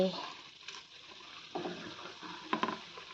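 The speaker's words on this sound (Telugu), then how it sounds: "నేనైతే వెన్న కాస్తున్నానండి" Butter heating in a pot to make ghee gives a soft, faint bubbling sizzle, with occasional light stirring taps rising briefly near the end.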